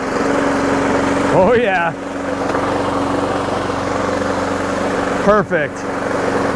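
Toro Super Recycler lawn mower engine running steadily at full throttle, a loud continuous drone with a couple of brief pitch swoops, while a person speaks briefly over it.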